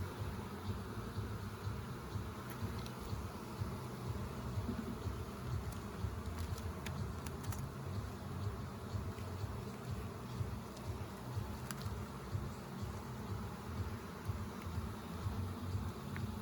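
Honeybees from an opened hive hum in a dense, continuous, fairly faint buzz during a July beehive inspection in Ontario, with occasional closer bees passing and no speech.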